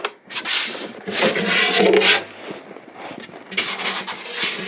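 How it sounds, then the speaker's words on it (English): Wooden guitar body being loosened and slid out of a neck joint jig, with close rubbing, scraping and knob-turning noises in several bursts and short pauses between them. "I'm now going to release the knobs and remove the guitar from the jig"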